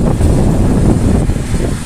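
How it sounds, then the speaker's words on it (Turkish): Strong wind buffets the microphone with loud, continuous low rumbling gusts. "Çok rüzgar var."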